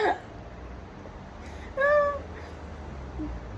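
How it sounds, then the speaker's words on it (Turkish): A pet cat gives a single short, clear meow up close against a quiet room, and a brief vocal sound comes just before it. "sen ne kadar obur bir kedisin."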